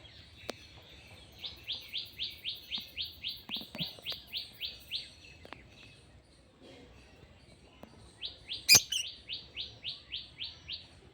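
Lovebirds inside a breeding box give quick runs of rapid, evenly spaced high chirps. A pause follows, then a sharp louder call and another chirping run. The sound is fairly faint and close, with no talking.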